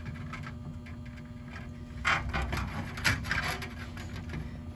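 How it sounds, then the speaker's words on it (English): A metal channel is cut for a roof peak, with close, rasping strokes that scrape and grind in irregular bursts over a steady low hum, two louder cuts standing out midway. "So I'm going to cut 1 inch to the right,"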